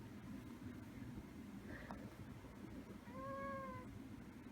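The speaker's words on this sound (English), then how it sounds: "got a new kitty. His name is Apollo." A pet kitten named Apollo gives a short, faint chirp, then a clearer, drawn-out meow near the end, set against a steady low background rumble.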